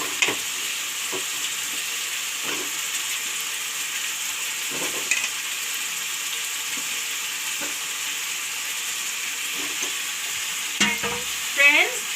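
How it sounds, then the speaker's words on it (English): Radish and potatoes fry in a pan with a steady sizzle throughout, punctuated by occasional scrapes and stirring clatters of a utensil against the pan, close and continuous. "Then I will put the radish, moola. And then goes the potatoes."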